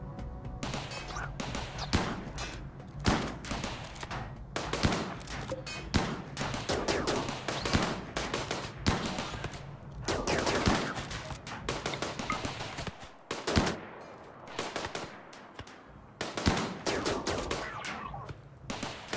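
Mechs open fire on a ship in RimWorld, with dense, continuous bursts of gunfire and impacts rattling almost without pause, loud and close throughout.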